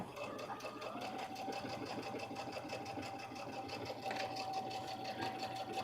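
A sewing machine backstitches a seam on a Julie Bag, giving a steady, close, continuous mechanical whir with a fine rhythmic chatter throughout, and a voice speaks faintly underneath.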